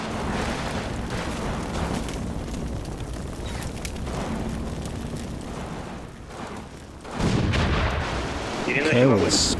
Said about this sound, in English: Oh, shooting at something.